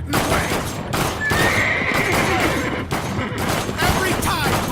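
A horse whinnies in the Blue Estate video game, a drawn-out neigh rising over a loud, busy mix of gunfire-like bursts and game noise that runs throughout.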